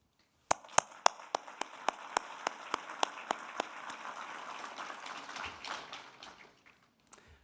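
Graduation ceremony audience applauding friends and family, beginning with a few sharp, distinct claps that thicken into a brief scattered round, then fade quickly to a lone final clap.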